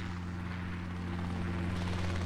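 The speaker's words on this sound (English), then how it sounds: "Is that a helicopter? Run!" A helicopter in the video game Dissonance drones loudly and continuously with a deep, throbbing rotor hum and a broad roar that fills the whole span.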